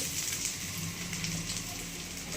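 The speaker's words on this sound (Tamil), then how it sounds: "எல்லாம் போட்டு தாளி இதுபோல் நல்லா வதக்கிட்டுங்க" Spices and onion sautéing in a pan for mutton kurma give a steady, close crackling sizzle that runs evenly throughout without talk.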